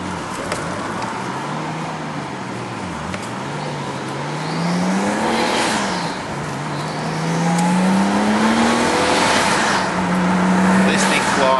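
Nissan Skyline R32 GTS-T engine heard from inside while driving, revs rising and falling through gear changes with rising pitch sweeps, loud and continuous under steady road noise.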